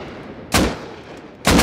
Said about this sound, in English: He spent 2 whole clips on me with an AK.